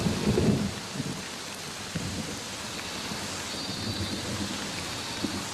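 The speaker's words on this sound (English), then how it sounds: "The incessant rains of the monsoon are the last straw." Heavy monsoon rain pours steadily, with a deep rumble of thunder near the start and softer rolls later, alone with no voices.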